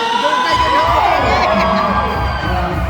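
A crowd at a band concert in Auckland, New Zealand cheers and shouts together, loud and sustained, with high voices whooping over the noise.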